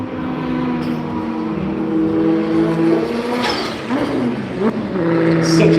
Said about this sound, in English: It's a very, very different sounding V8.